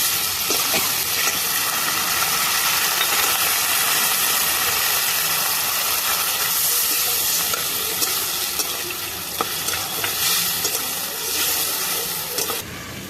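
A splash of bowl-rinsing water hits ginger, garlic and green chilli paste frying in a pan, giving a loud, continuous hissing sizzle with stirring scrapes throughout; no one speaks.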